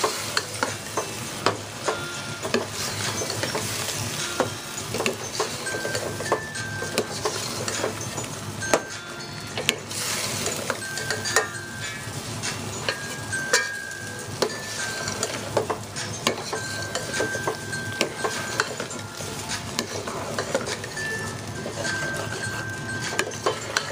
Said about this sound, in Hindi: अब इसको भी हम 5 से 6 मिनट तक भून लेंगे अच्छी तरह से ताकि सारा मसाला इसमें मिक्स हो जाए